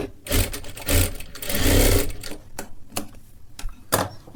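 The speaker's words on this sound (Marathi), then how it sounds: "आता इथे सुद्धा वरच्या बाजूला एक शिलाई करून घ्यायची आहे." Sewing machine stitching fabric for a sleeve, running in loud bursts of rapid stitching that stop and restart several times over a few seconds, with no talking.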